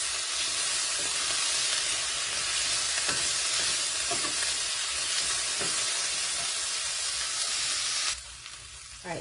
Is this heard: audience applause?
no